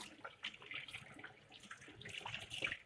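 Running tap water splashes over fish being rinsed in a kitchen sink, a soft continuous trickle and patter with faint irregular splashes, fairly quiet and without talk.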